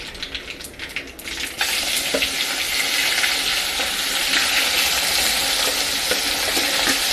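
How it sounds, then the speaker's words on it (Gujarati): Ridge gourd (turiya) hits hot oil tempered with cumin, asafoetida, chillies, bay leaf and cinnamon, bursting into a loud, steady sizzle after a brief quieter start with faint clinks, then frying on continuously up close. "હવે આપણે તુરિયા વઘારી લેશું"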